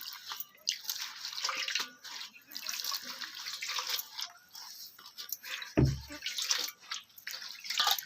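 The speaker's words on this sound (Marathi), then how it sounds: "आता ही पानं आपल्याला ना स्वच्छ अशी धुवून घ्यायचे" Running water splashes steadily as colocasia leaves are washed under clean water in a home kitchen, with fluctuating splashes, drips and a brief low thump near the middle, close and moderately quiet.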